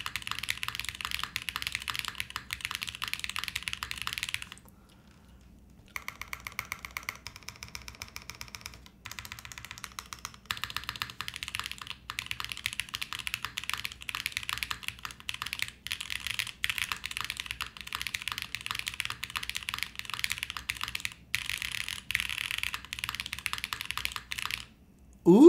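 Fast, steady typing on a Quantum60 mechanical keyboard, crisp clacking keystrokes heard up close and alone, with one brief pause partway through.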